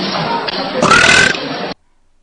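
A woman lets out a loud, drawn-out burp, coarse and gravelly, that swells in the middle and stops abruptly after almost two seconds, leaving silence.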